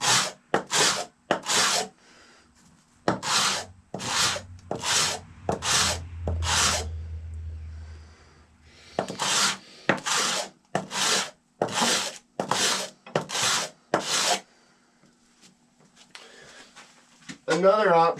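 A powder horn is rubbed back and forth flat against an abrasive surface, giving a series of dry rasping strokes in regular bursts, with someone talking between and over some of the strokes.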